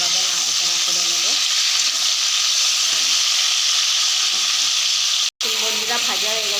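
Green chillies frying in hot oil in a pan, a loud, steady close sizzle with scraping stirring strokes throughout and one brief cut near the end.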